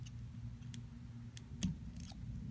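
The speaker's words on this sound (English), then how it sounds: "And as I cut this, I want to cut it at a nice 45-degree angle." Small fly-tying scissors snip material on a bonefish fly in a few quiet, close clicks with one sharper cut, over a low steady hum and no speech.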